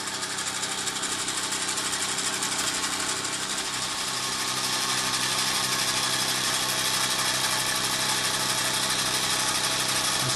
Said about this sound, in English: But then I can engage the clutch and the whole thing will move forward.